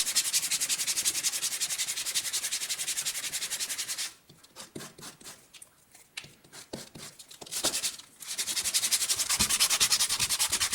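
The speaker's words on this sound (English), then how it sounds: "we're going to use some sandpaper and sand the edges" Sandpaper rubs steadily along the edges of a leather luggage tag, a close, continuous abrasive hiss that pauses briefly midway before the sanding resumes.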